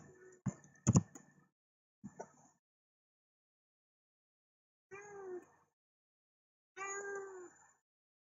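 A house cat meows twice in the later half, a pair of short rising calls after a few quiet taps and clicks from a keyboard, near and fairly soft in an otherwise silent room.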